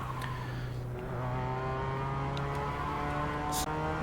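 A race car engine accelerates in a sim racing game, a continuous droning hum of stacked harmonic tones that shift slightly as the car speeds up, steady and moderately loud, with no voices.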